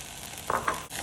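Cut vegetables sauté in a pan with onion and ginger-garlic paste, a faint low sizzle with two short stirring scrapes in the middle.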